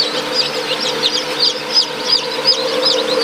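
Many small native (desi) chicken chicks peep continuously, a busy chorus of high, repeated chirps close by over a low steady hum.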